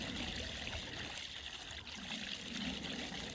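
Pond water spills steadily down into a skimmer pipe, carrying floating debris off the surface as a continuous, close trickling rush with a low, even gurgle.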